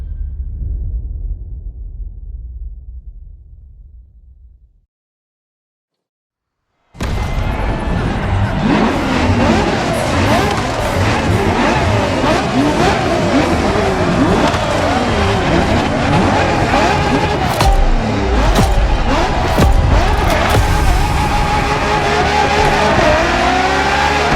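The Ferrari LaFerrari hybrid supercar roars in The Crew Motorfest. A loud, sustained engine rises and falls through revs with tire squeals after a brief fade and a moment of silence.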